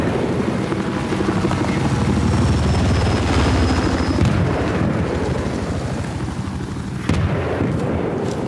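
An enemy helicopter in the video game Battlefield 4 roars loud and near with a continuous rotor drone, under distant gunfire and explosions, fading slightly before a sharp bang near the end.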